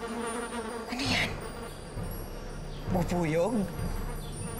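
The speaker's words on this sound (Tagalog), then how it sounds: "Ang dami naman bubuyog sa kanina." A dense swarm of bees buzzes steadily around an outdoor scene, a continuous droning hum that rises and falls in loudness, with brief voices and other sounds breaking in over it.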